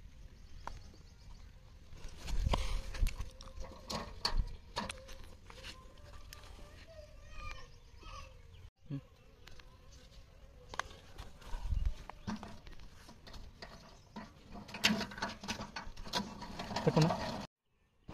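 A honey extractor spins freshly uncapped honey frames, giving a steady mechanical clatter of rattles and knocks that runs nearly continuously for about eighteen seconds, with one brief break midway.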